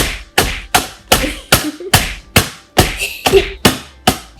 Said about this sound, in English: Now that all the Oreos are smashed up